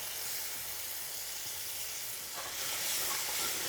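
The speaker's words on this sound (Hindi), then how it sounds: "अब वो जो दही में मसालो बना रखे हो वो डाल देना और फटाफट हिलावा" Spiced yogurt masala sizzles and hisses steadily in a hot pan over a high flame while being stirred quickly, a dense continuous fry noise that swells slightly louder toward the end.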